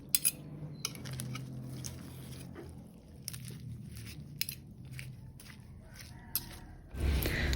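Caesar salad with nuts and corn being tossed and mixed in a bowl, with soft, intermittent clinks and scrapes of utensils against the dish at close range.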